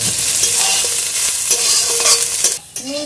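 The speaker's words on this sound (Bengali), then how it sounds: "সবজিটা তাড়াতাড়ি একটুখানি ভাজা ভাজা হয়ে যাবে, একটু নাড়াচাড়া করে ভেজে নেবো" Chopped onion, carrot and capsicum, salted, fry in a pan with a close, bright sizzle as a spoon scrapes and stirs them repeatedly, ending in a short metallic clatter.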